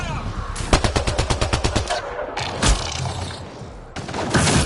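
Gunfire in a video game, with a fast machine-gun burst of evenly spaced shots, then a heavy single blast and a sustained roar of firing toward the end.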